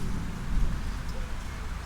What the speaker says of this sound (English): I am in the garage right now since it's still raining